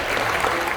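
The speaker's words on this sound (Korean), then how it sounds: "우리 청년들 나오실 때 박수를 한번 맞아주십시오" A church congregation at a Sunday worship service claps to welcome its young people, a brief burst of dense applause filling the room.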